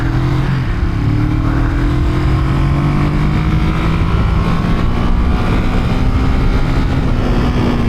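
A 1973 Honda CL350 motorcycle held at full throttle in third gear, a loud, close and continuous engine drone whose pitch climbs slowly throughout.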